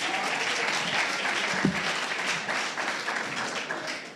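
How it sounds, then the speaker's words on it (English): An audience at a Saturday morning forum claps in a dense, sustained burst of applause celebrating birthdays, steady and fairly loud throughout with no talk over it. "So give yourself a round of applause for your birthday."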